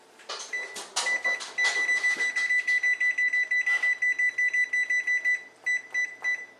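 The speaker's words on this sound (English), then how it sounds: "And you will need to set your timer for 30 minutes." Repeated electronic beeps from a kitchen oven timer being set for 30 minutes, a few quick presses followed by a long run of evenly spaced tones, with faint handling clicks.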